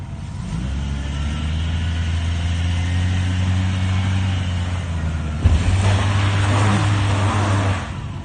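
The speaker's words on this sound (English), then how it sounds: "Put it in drive and send it like that on the mat." Jeep XJ with heavy piston slap climbing a stair-step obstacle at a park, engine droning steadily, then revving harder with a sudden surge partway through, close and loud.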